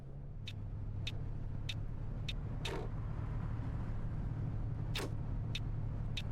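A coach bus in the Fernbus Coach Sim driving game rolls onto the Autobahn toward Augsburg, a steady low engine drone with faint regular ticking and a couple of brief airy whooshes, no talk.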